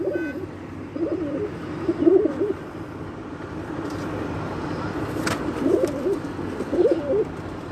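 Breeder pigeons coo in repeated soft, throaty bursts at close range in Islamabad, with a steady background hum of distant traffic.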